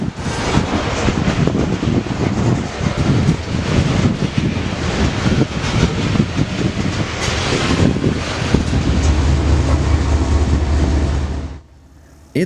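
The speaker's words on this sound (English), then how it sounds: "we see a short local freight that's caught in a traffic jam" Freight train passing through Galesburg, Illinois, a loud rushing rumble with wind buffeting the microphone, close and sustained for several seconds before dropping away abruptly.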